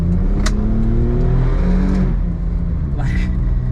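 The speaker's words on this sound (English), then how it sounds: "I'm in a place like this where I can kind of gun it" A Suzuki Jimny with a turbo engine accelerates hard, its engine note droning loudly and steadily with a rising pull throughout, heard close from inside the car.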